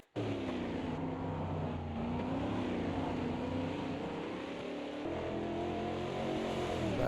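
In a racing video game, a Brazilian StockCar Series car laps the Campo Grande circuit, its engine droning steadily and closely at sustained revs with slight pitch shifts through the curves, and no voices over it.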